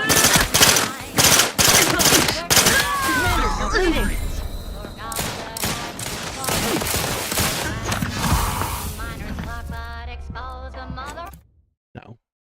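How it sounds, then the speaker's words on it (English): Rapid gunfire from a gun in The Outer Worlds 2, loud repeated bursts with a muffled, silenced-like quality, mixed with game effects and a voice, then cutting to near silence at the end. "this gun, not very good. Because it sounds silenced, but it's not"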